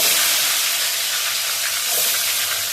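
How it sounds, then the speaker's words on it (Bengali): Teasel gourd (kakrol) bhaji fries in a pan with a loud, constant hiss and sizzle that holds steady and close throughout. "ভাজিটা করে নিই, কাঁকড়ের ভাজি"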